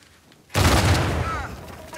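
In Uncharted 4, a sudden loud video game explosion booms after a brief quiet moment, then a long rumbling roar that slowly fades.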